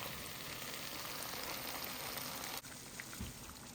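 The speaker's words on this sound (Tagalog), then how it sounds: "Lagay na natin yung ating karne." Meat dropped into a hot frying pan for Filipino menudo gives a steady, dense sizzle that suddenly thins to a quieter crackle, followed by a soft low thump near the end, with no talking.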